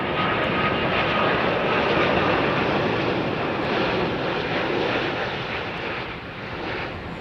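A Gulf Air airliner in retro livery arrives on runway 09L at Heathrow, its engines a loud, steady jet roar that stays close throughout and eases slightly toward the end, with no talking.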